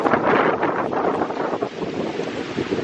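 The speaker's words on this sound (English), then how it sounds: "I've never seen it this windy in the morning. It's blowing hard." Strong morning wind blows hard against a hunting tree stand, a loud roaring buffet with gusty surges and heavy rumbling across the microphone, no voices.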